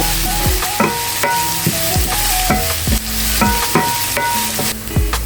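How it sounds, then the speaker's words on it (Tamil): Onions frying in a pan as the base for a watermelon rind gravy: a loud continuous sizzle with repeated sharp scraping and clanking stirring strokes at a steady rhythm, no voices. "நான் ஏன் இந்த வெங்காயம் போடுறேன்னா எனக்கு கொஞ்சம் சோஸாக தேவைப்படுத்து போடுறோம்"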